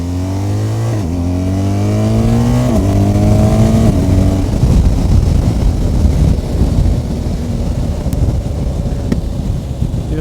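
A 2023 BMW R 1250 GS motorcycle accelerating onto a motorway, its boxer engine revving up through several gear changes with rising pitch, then settling into a loud, steady roar mixed with heavy wind rush.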